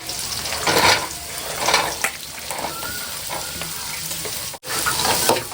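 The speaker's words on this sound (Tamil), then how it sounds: "இது வந்து காய் நம்மளுக்கு நல்லா வதங்கட்டும்." Chopped green chilies, beans and onions sizzle and hiss steadily while being sautéed in a pan for chicken fried rice, with a few louder stirring swells and a brief drop near the end.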